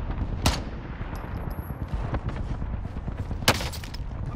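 Incoming gunfire in Call of Duty Warzone: two sharp, loud shots about three seconds apart, with faint scattered pops and a steady game-ambience rumble in between.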